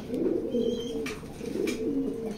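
Racing pigeons coo in soft, repeated low rolling calls, close and fairly loud, continuing steadily with faint background noise.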